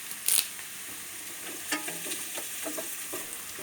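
Curry leaves drop into a pan of softened onion, green chilli and ginger frying in oil, giving a sharp crackle followed by a steady low sizzle with light stirring scrapes.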